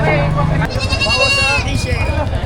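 A goat bleats loudly in one long, wavering cry at a crowded cattle, goat and carabao market in Padre Garcia, Batangas, over a constant din of voices and crowd noise.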